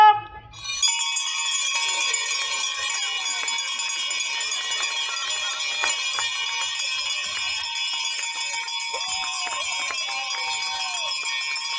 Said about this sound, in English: Criers, in tradition manner, bells up!